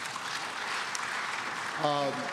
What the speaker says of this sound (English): Please, a round of applause for my panelists.